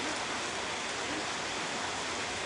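Heavy rain from a cyclone storm falls in a steady, dense hiss, an even wash of drops heard from inside shelter at low level, unbroken and without talk.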